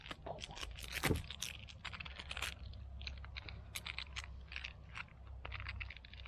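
Crinkly plastic packaging around a chicken sandwich is worked open outdoors on a countryside hike, producing scattered close rustles and crackles with one sharper tearing burst early on, over steady low wind rumble.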